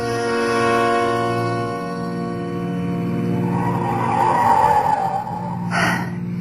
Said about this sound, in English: We were driving too fast